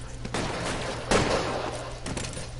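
Gunfire in the video game LA Noire, a police shootout after a 211 call on Broadway: a loud burst of shots, then steady background rumble and scattered reports across the short stretch.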